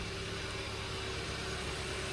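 A Kia Soul 1.6L engine idles steadily after a head gasket replacement, a smooth continuous hum with a faint tonal whine, close and unbroken throughout.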